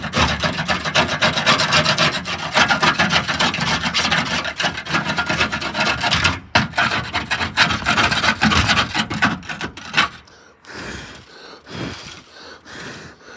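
Old sealant is scraped off rusty van bodywork, making harsh, continuous rasping strokes up close that break into shorter, quieter scrapes near the end.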